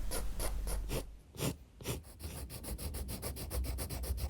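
A tiny mechanical pencil scratches fine detail onto mixed-media paper in quick, rhythmic, close-up strokes, soft and alone with a short pause partway through.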